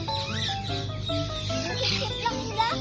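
Green cheek conure parrots calling in a bird shop, a busy mix of chirps, whistles and squawks mingled with clucking fowl and faint nearby voices, moderately close throughout.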